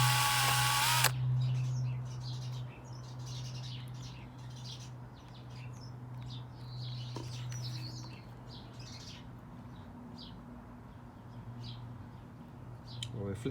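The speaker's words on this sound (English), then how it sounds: "We'll flick that off with a drill" A power drill whirs loudly for about a second, spinning off excess polyurethane varnish from a copper rose, then a low steady hum continues under faint chirping birds and quiet background sounds.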